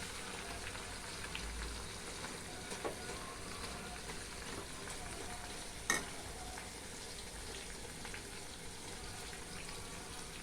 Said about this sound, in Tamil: நிறைய கேசவர்த்தினி போட்டு காய்ச்சிக்கிறேன்